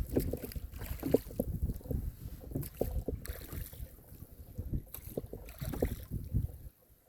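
Wind blowing out of the east up a canyon on Lake Sonoma seen from a rowboat, gusting and buffeting the microphone with low rumbling surges and water sloshing against the hull, steady and close throughout.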